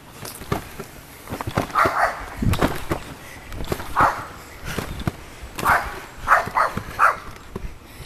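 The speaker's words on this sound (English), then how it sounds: "Doggos." Several dogs bark and yip near a trampoline, in short, repeated bursts that come at irregular intervals with brief pauses between them.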